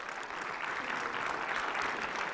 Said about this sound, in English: Let's give our winners a round of applause.